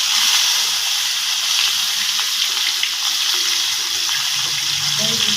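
Pieces of katla fish fry in oil in a wok, giving a loud, hissing spatter that runs steadily close by, with a watery, bubbling texture throughout.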